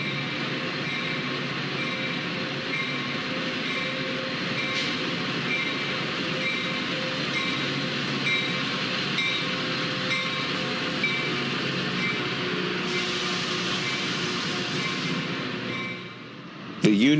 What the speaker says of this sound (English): This is one busy place with 185 trains arriving or departing each weekday.